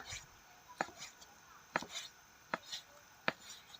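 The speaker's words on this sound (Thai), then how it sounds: "มาหั่นหนังหมูกันต่อเลยค่ะ" A knife slices pork skin on a board in sharp, separate strokes, about five crisp chops spaced unevenly, close and fairly quiet.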